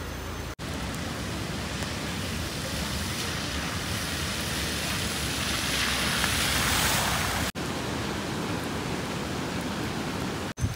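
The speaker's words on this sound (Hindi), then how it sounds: "अभी जिस जगह पे ट्रैकिंग में जाना था वो जगह पे तो अभी बहुत ज़्यादा पानी ओवरफ्लो हो रहा है।" Heavy, unbroken rush of overflowing water in pouring rain near a hill-station trekking spot close to Wilson Hill, a loud broadband roar that swells slightly and holds steady, broken by a couple of brief dropouts.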